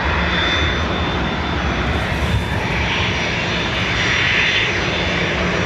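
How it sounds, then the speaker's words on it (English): Ryanair jet airliner taking off from Dublin Airport, bound for Stansted, a sustained heavy engine roar that swells slightly toward the end, loud and steady with a brief spoken word at the start. "So that Ryanair that took off was going to Stansted."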